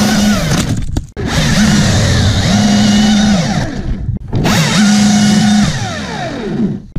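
A loud Husqvarna chainsaw roars as it cuts through acacia wood, its pitch dropping under load, with two brief pauses between long cuts.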